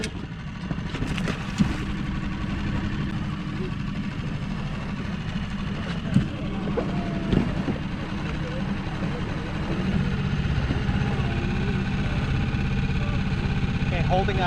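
A dinghy outboard motor idles steadily during an anchor test over pea gravel and stone, giving a continuous low engine drone with a few brief knocks and clunks over it.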